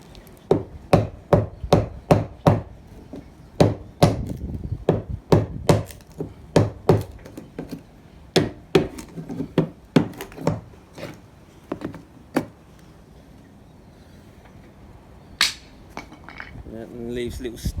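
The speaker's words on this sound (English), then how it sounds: "and then get a chisel underneath it" Chisel prying up ground-off deck screw heads on a boat, a rapid series of sharp metallic taps and knocks, close and crisp, then a pause before a few last strikes and a faint voice.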